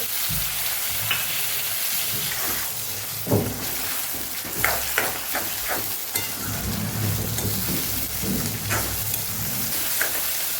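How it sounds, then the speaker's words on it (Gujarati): Tomatoes dropped into a pan of sautéed onions for a spicy baby potato curry, with a loud, steady sizzle and frying hiss throughout and occasional stirring scrapes, no talking. "તો હવે અહીં આપણે ટમેટા ઉમેરી દેવાના છે"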